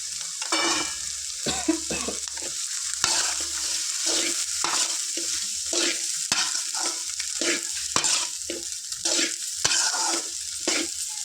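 Rice with fried eggs is stirred in a frying pan, loud continuous sizzling broken by repeated rhythmic scrapes and pushes of a spoon mixing everything together.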